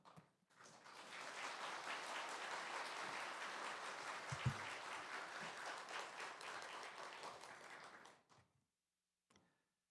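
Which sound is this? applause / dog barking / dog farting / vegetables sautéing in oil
applause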